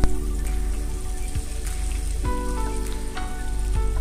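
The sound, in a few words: butter sizzling in a hot pan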